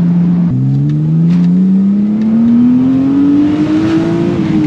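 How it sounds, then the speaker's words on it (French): A car engine revs hard as the throttle opens, a loud close drone that rises steadily in pitch over several seconds after a brief dip, with no talking over it. "Là, si tu remets le coup de gaz, ça part quoi."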